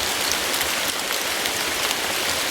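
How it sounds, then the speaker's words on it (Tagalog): Steady heavy rain pours down outdoors after a hot day, a dense, even hiss of drops on surfaces close by with no letup and no voices. "Kanina sobrang init, ngayon biglang umulan."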